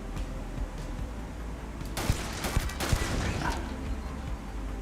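Turret gunfire from the video game Starfield crackles in a dense burst over a constant ambient hum, lasting about a second with a few trailing shots.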